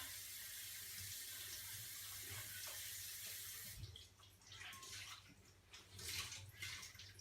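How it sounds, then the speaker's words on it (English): Warm water running from a tap onto a clean tea towel laid over dough, a steady broadband splash that shifts and thins partway through into an uneven trickle. No voices. "put some warm water over the top"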